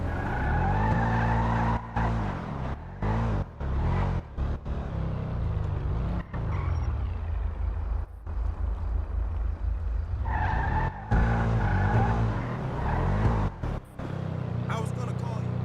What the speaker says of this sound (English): I hit the brakes, game.